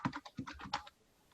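Someone types an email address on a keyboard to log into a healthy meal-planning app. A quick, quiet burst of key clicks lasts under a second and then stops.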